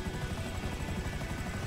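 A smoking helicopter in GTA V Online during a prison-break heist, its steady rotor drone loud and continuous throughout.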